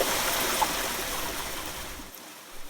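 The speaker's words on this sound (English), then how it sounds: "The water is making some noise." Steady broadband rush of river water flowing continuously, fairly close and even in level, fading slightly near the end with no voices.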